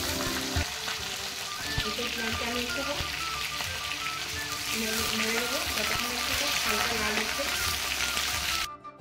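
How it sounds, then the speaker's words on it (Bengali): Chicken and jackfruit frying in hot oil in a home kitchen, a steady close sizzle and crackle running throughout with faint tonal sounds over it, ending abruptly. "আমি এরপরে ওই তেলের মধ্যে একটা তেজপাতা, কিছু গোটা গরম মশলা গরম দেবো।"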